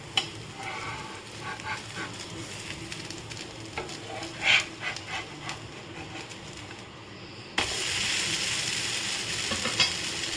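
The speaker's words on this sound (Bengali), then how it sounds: "আমি আরেকটাও তোমাদের ভেজে দেখাচ্ছি" Steady sizzling of green mung bean dosa batter frying on a hot pan, with a few soft clinks, then a sudden louder burst of hissing near the end.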